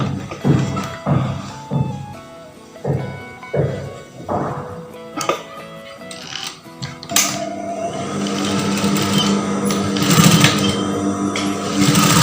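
A sewing machine stitches the edge and hem of a batik blouse, first in short stop-start bursts of whirring, then running continuously, close and fairly loud.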